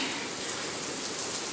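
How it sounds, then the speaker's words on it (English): Cold rain falling outdoors, a dense, even hiss of drops on surfaces that stays steady and fairly soft with no other sounds. "look, the rain"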